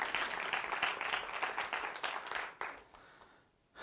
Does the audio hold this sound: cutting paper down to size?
no